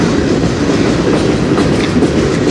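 A CN freight train passes on the Strathroy Subdivision, a loud, dense roar of rolling cars and wheel clatter heard up close without a break.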